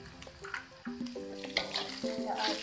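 Potato lumpia filling with ground pepper being stirred in a pan, soft scraping and light sizzling strokes, quiet and close, with some tonal clinks and a steady low background hum.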